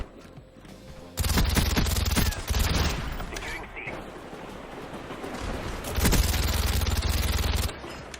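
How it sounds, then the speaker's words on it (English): Suppressed gunfire from the Call of Duty video game, a loud burst of rapid muffled shots, then a quieter stretch of scattered mechanical noise before a second dense burst near the end. "The suppressor sounded great."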